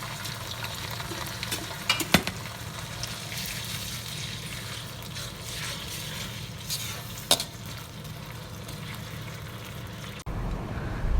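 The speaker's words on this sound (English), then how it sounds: "Then we put the prepared sardine into the pan and stir until it will combine to each other." Sardine frying in a pan with a low, steady sizzle while it is stirred, marked by a couple of sharp metallic clinks of the utensil against the pan; no one speaks.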